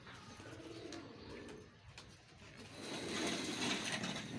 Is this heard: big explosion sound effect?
no